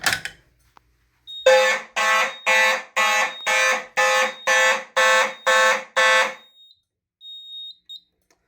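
A loud fire alarm sounds in a series of about nine evenly spaced electronic whooping pulses, then stops, leaving a faint tone behind.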